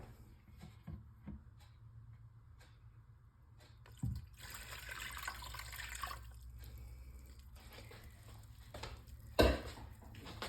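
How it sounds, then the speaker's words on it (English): Cold water runs steadily from a tap for a strawberry pie filling, a soft continuous trickle with a few clinks and a sharper knock near the end, no voices. "We are going to add our cold water."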